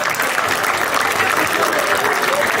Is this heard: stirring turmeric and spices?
no